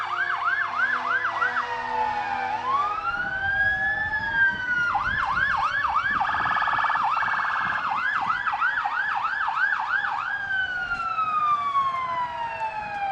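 Fire engine sirens from Lancaster Engine 1 and Boylston Engine 2 in an Independence Day parade in Fitchburg, Massachusetts: loud, continuous wailing and yelping sweeps overlap throughout, with crowd and street noise beneath and no talk.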